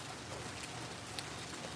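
Steady heavy rain falls in the Philippines, a dense, even hiss of drops on surfaces that holds at a constant level throughout, with no voices.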